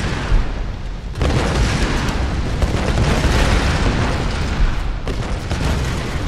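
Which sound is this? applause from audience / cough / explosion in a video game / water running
explosion in a video game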